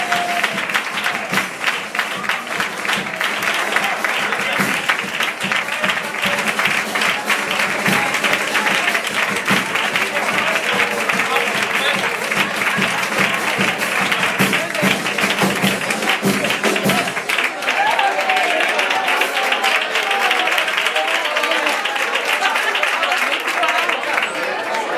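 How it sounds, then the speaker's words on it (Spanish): Audience applause at a Spanish peña prize announcement, a loud, sustained roar of many hands clapping for about twenty-five seconds, with crowd voices and a slight change in tone partway through. "un aplauso."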